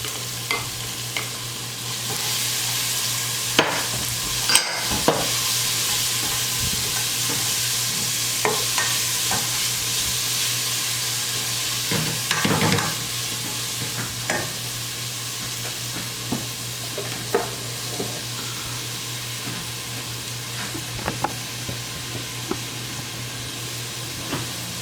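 Half an onion and half a green pepper sizzle in a pot for a Puerto Rican white bean and pumpkin stew, a steady frying hiss with scattered utensil clinks and scrapes and a low steady hum beneath.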